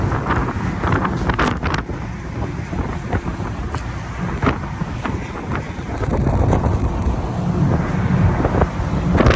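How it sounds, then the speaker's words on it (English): Strong wind roars continuously across the microphone aboard a ferry from Connecticut to Long Island, a loud, gusty rumble that swells toward the end, with no voices. "That's why, because it's so windy."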